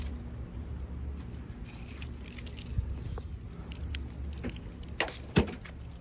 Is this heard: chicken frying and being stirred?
no